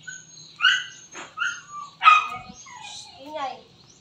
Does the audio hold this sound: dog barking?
yes